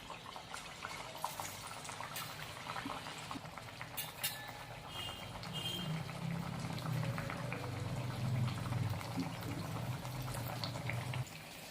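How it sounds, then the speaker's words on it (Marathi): Jaggery and semolina gharge fry in hot oil, a soft continuous bubbling that swells louder in the second half, with no talk over it. "तेल तापलेलं आहे आपण हे सगळे गारगे आहेत ना ते तळून घेऊया"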